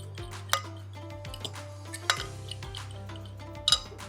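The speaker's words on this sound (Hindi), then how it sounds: "चलो इन्हनि तमामु शयुनि खे असां कयोसीं मिक्स" Chicken drumsticks being mixed with spices in a dish, with soft clinks of a utensil against the bowl and a few sharper knocks over a steady low hum.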